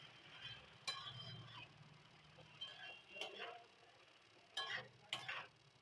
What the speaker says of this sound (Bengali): শাকটার সঙ্গে আলুটাও ভালো করে একটু নাড়াচাড়া ভালো করে করে নেব